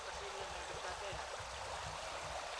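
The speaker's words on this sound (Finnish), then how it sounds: "Siinäpä virtaa vesi." A stream flows along a remote wilderness hiking trail with a constant, even rush of water, and muffled low voices murmur faintly beneath it.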